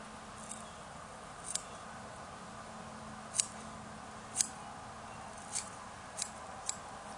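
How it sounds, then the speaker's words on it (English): Scissors cutting fly-tying material square while tying a Hexagenia dun, several sharp, faint snips spaced irregularly over quiet background hiss. "So now, once you have that, just cut it off square."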